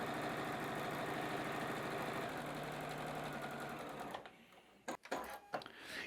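Sewing machine stitching a long quilt seam, a fast steady mechanical whirr and needle chatter that runs for about four seconds then stops, followed by a few soft handling clicks and rustles.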